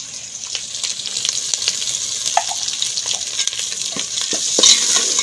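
Meat and masala frying in a pan, a loud continuous sizzle with scattered crackles and stirring scrapes close by, no voices.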